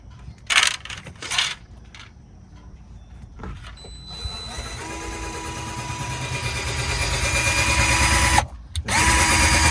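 A power drill bores a hole through a car body for mounting a license plate, starting with a few short metallic clinks and bursts, then a long, loud, steadily building whine that cuts off briefly near the end and resumes.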